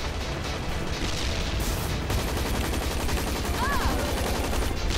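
Rapid automatic gunfire in the online shooter game Hazard Ops, dense continuous bursts with booming impacts, loud and close, with players talking underneath.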